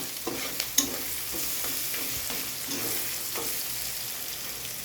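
Whole garam masala sizzles and fries steadily in hot oil in a pan, a continuous close crackle with a few light scraping stirs and no voices.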